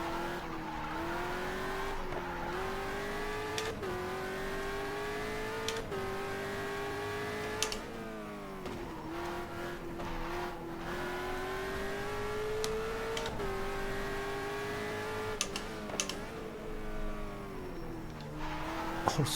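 An Aston Martin race car engine in GTR2 racing at Bahrain, driven hard, its close, loud droning note climbing through each gear and dropping sharply at every shift, with tire squeal under the engine throughout.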